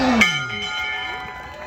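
A bell rung by a graduating student at a Class of 2023 ceremony gives one bright struck tone that decays slowly, heard alone over faint crowd murmur.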